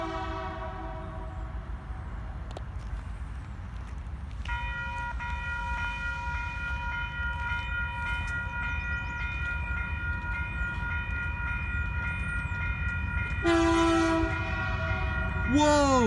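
A short freight train led by Delaware and Hudson locomotive 7304 with a CP unit rolls past with a steady rumble, its horn sounding a long chord that starts mid-clip and blasts louder near the end.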